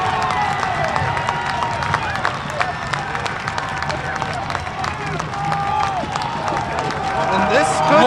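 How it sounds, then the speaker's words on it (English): Hobart fans at a high school football game against the Lowell Red Devils roar in a loud, continuous crowd din with claps and cheers, while a voice talks over the noise close by. "Crowd roaring right now."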